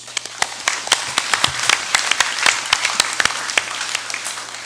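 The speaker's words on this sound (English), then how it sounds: "Let's give them a round of applause." A round of applause in a national congress chamber, with distinct claps at close range and a steady low hum beneath. It sounds like a modest group clapping unevenly for several seconds.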